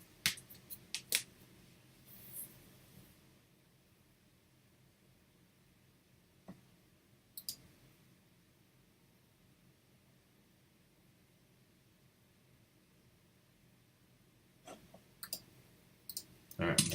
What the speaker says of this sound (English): So all we have to do is click publish.